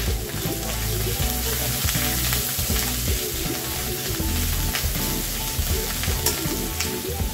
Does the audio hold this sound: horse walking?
no